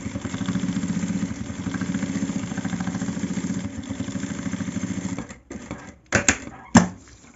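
A sewing machine runs a straight topstitch seam on fabric for a small slim pencil case, a close, fast, even clatter for about five seconds, then it stops and a few sharp clicks and handling knocks follow.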